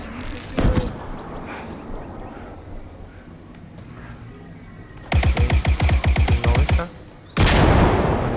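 Gunfire in the video game Squad: a single sharp shot early, then a rapid automatic burst of about a dozen rounds and a final loud blast, with players talking over quieter stretches.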